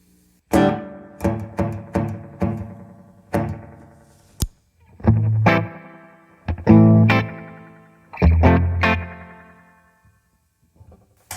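Guitar played through a 1976 Roland DC-50 Digital Chorus pushed toward feedback oscillation: a series of sharp plucked strums and chords, each ringing with a warbling, resonant tail before decaying into near silence.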